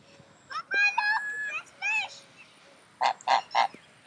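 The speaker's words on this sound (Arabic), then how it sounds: "وانتم ديك تشوفوا البط كيما داير." Ducks at Love Lake in the Dubai desert call out nearby: a few nasal honks, then a run of quacks, and three loud, rhythmic quacks close together at the end.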